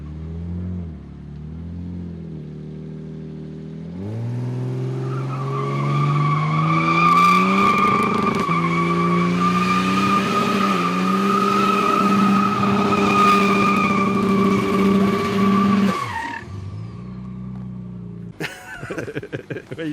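A car at a skid event revs hard, then lets out a loud, sustained screeching tire squeal over the rising engine roar for about ten seconds, which cuts off abruptly, followed by a few brief clatters.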